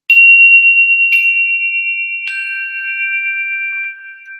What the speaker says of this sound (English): I can bring my lovely little chimes